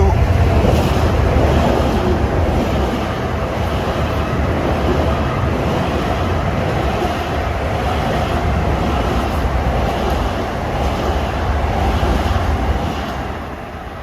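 Long Island Rail Road eastbound train passing on triple track near Floral Park, a steady loud broadband roar and rumble sustained throughout, fading slightly at the end.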